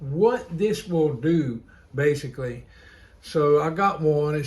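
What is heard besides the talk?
None of the usual background noises is heard.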